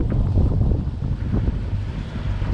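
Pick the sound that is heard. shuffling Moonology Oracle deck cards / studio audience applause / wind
wind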